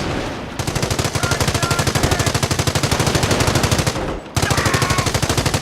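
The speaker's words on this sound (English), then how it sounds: "The MG Emplacement is suppressing the enemy troops." A machine gun emplacement in Company of Heroes fires long rapid bursts, a loud, dense mechanical rattle with one short pause before it resumes.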